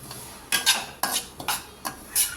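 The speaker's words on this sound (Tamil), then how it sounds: "இந்த மீதி இருக்கிற நெய்யில் இந்த ரவையை கொட்டி அதை வறுத்துக்கிறாங்க" A spoon stirs semolina roasting in ghee in a metal pan, giving five or six distinct scraping strokes at an uneven rhythm, close and fairly quiet, with no voices.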